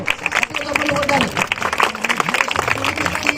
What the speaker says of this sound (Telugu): మనం చప్పట్లు కొట్టాలి